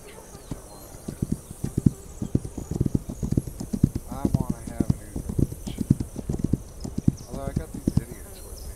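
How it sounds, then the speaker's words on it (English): In the video game This Land is my land!, a horse patrol's hooves clip-clop steadily in an irregular trotting rhythm, with a brief whinny partway through and a faint background drone. "Horses. It's a patrol."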